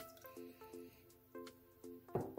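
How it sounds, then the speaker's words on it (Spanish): Water poured into a pot on the stove while making Dominican tomate jam, with soft faint drips and trickles in short bursts and a brief splashier gush near the end, no voices. "Voy a colocar un vaso de agua,"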